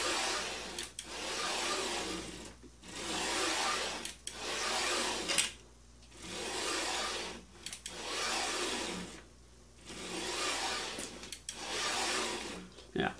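A DIY large 3D printer axis travels back and forth, a whirring motor drone that rises and stops in repeated sweeps of about a second or two, separated by short quiet gaps.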